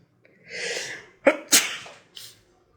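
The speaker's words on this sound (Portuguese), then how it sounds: "espirrando, não de resfriada, mas de prazer" A single close sneeze: a breathy inhale, then a sharp explosive burst followed by a second quick blast and a short trailing sniff, loud and isolated in a quiet room.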